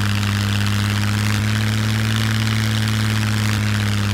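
A propeller plane engine in the survival game Scum drones loud and constant at close range, a steady low-pitched hum with a slight pulsing buzz and no talk.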